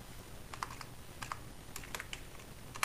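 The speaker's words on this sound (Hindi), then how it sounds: "एंटर प्रेस किया" Clicky keystrokes on a computer keyboard, a handful of quiet, separate taps spread across a few seconds over a low steady background hum.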